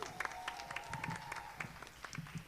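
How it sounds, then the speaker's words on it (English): Audience at a high school spring band concert claps for the French horn section, a faint, brief patter of scattered hand claps. "Clap it up for the French horns."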